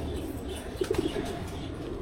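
Several soft pigeon coos from Beji pigeons kept together in a cage, a short cluster of low, rounded calls in the middle against a steady background hum.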